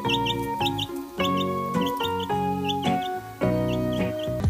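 Chicks peep in quick high chirps over a steady, tonal musical backing that plays throughout.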